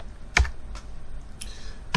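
Typing on a computer keyboard comes through as a few sparse, soft clicks at close range, quiet and alone.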